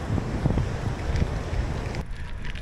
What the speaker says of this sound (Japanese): 風がなかったらもうちょい気持ちよく走れるんですけど、結構風をやっぱ海岸線なんでね